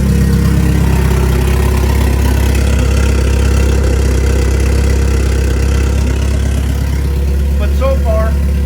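An AWD Eagle Talon engine runs loud and close with a deep steady drone held at high revs throughout, under a heavy mechanical rumble.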